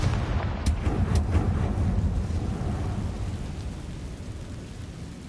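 Confringo blast spell cast in Hogwarts Legacy, a booming explosive burst with a couple of sharp cracks early on, then a rumbling, crackling tail that slowly fades.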